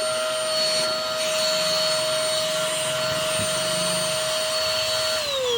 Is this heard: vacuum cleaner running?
yes